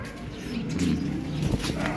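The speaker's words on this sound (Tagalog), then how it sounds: "Ayun yung mga ibon natin, guys" Racing pigeons coo steadily in a loft, a low throaty murmur from several birds close by with a few faint chirps over it and no talk.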